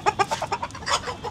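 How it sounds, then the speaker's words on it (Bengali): An old hen clucks in a quick run of short, close, rhythmic clucks on a farm. "আর এই যে এটা হচ্ছে আমাদের সবচেয়ে বয়স্ক মুরগি"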